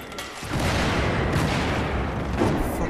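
Dense Battlefield 4 gunfire and explosions in a Rush match on Operation Locker, with a tank nearby. A loud, continuous barrage of shots and booms fills the scene, with a few heavier bursts and no clear talk.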